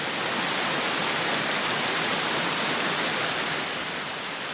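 A forest creek rushes steadily at night beside a campsite, a dense, even roar of flowing water close by with no other sounds standing out.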